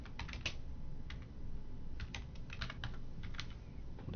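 Quiet, irregular taps of a computer keyboard being typed on, brief clusters of keystrokes close to the microphone with no voices.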